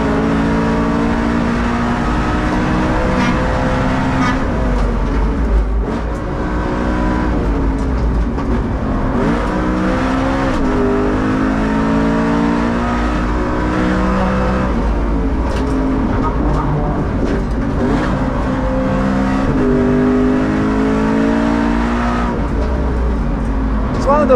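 A widebody BMW E92 M3 race car lapping the Nürburgring, its engine loud and continuous from inside the cabin, pitch climbing and dropping through gear changes and throttle lifts.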